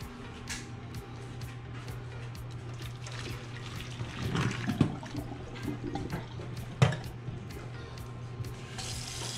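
Cold tap water runs steadily from a kitchen faucet into a pot for boiling on a stovetop, a quiet continuous stream with a few faint clinks, no talking.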